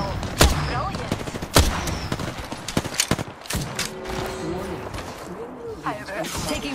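Gunfire in the battle-royale shooter Apex Legends, sharp single shots and short bursts, some loud and close, mixed with mechanical clicks and clanks while players talk.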